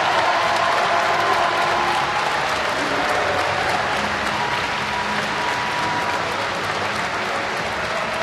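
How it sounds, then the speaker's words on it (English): A strongman competition crowd at the Arnold Strongman Classic gives a standing ovation after a deadlift, with dense, sustained applause filling the whole stretch at a loud, even level. "getting a standing ovation from a good portion of this crowd"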